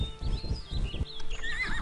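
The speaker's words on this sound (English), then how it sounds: "And I try to ride a horse again." A horse in a video game whinnies loudly with a rising, wavering neigh, over a quick run of close hoof clops.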